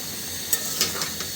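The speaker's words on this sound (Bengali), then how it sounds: "সবজি দিয়ে ভাজি বানাচ্ছি।" Mixed vegetables frying in a pan for a Bengali bhaji, a steady low sizzle with a few brief clinks of stirring utensil, close and alone.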